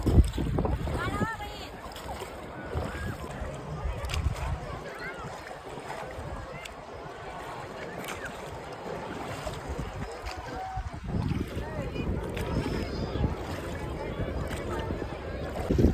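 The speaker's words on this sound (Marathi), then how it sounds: "पूर्ण होडी बुक केली आम्ही इथून डायरेक्ट तिकडे जायसाठी" A hired rowboat crosses the Chandrabhaga river at Pandharpur, with steady water lapping and wind buffeting the microphone, faint voices and splashes under a continuous outdoor hiss.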